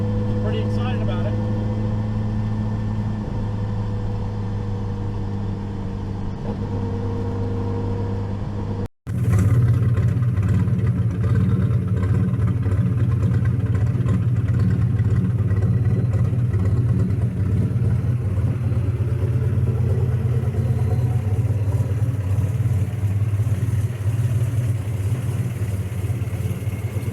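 Nissan Z car engine with a new downpipe on a test drive: a steady low engine drone with road noise, then after a brief cut a louder, rougher cabin rumble that holds on, with talk heard over it.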